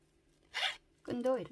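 The zipper on a handmade cross-patterned mini shoulder bag makes two quick, close, soft zipping pulls separated by a short pause.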